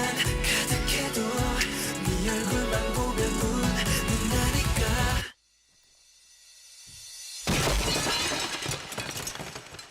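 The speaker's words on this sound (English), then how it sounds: "Everything just drops out and you just hear the glass being shattered before the song keeps progressing," Glass shatters sharply in the middle of a pop track. The dense music cuts out abruptly and a single crash rings out and tinkles away over a brief near-silence before the song surges back in.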